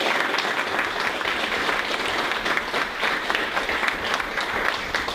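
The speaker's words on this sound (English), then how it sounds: "Let's give our speaker one more round of applause." Audience applause for a speaker at a marketing chapter talk, a steady wash of many hands clapping at moderate volume throughout, with no voices over it.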